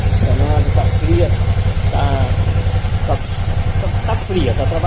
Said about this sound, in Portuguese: Moto agora sem tossir, sem nada, funcionando, tá fria.